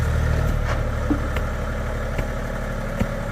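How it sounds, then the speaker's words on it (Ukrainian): A new Kentavr 244SX Chinese tractor running in its engine, a steady mid-low diesel idle throbbing continuously and fairly loud with a few faint clanks, no voices. "А там обкаточка на трактора."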